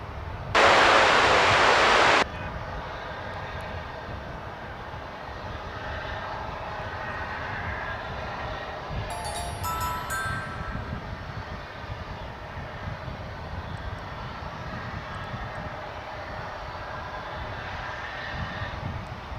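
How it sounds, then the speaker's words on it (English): Jet airliners roll out for a double takeoff at Dallas/Fort Worth Airport, their engines a steady, broad roar heard from a distance that holds throughout with little change in level. "And we got a double takeoff."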